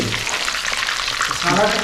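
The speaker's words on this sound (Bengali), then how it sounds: "ক্যাম্পে ঢোকার সঙ্গে সঙ্গে যদি এরকম মাছ ভাজা পেয়ে যায় কেউ আর তো ছাড়ে" Pomfret fish fry in a pan of hot oil at a beach resort camp, a loud, close, dense sizzle that swells near the end, with occasional stirring.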